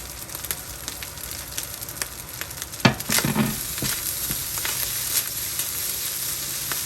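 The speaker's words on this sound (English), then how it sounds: "Give that a good mix. Make sure everything is fried in really nice here." Shrimp fried rice with sweet peppers, Guyanese style, sizzles in a hot pan, steady close frying broken by scattered taps and a sharp scraping stir just before the middle.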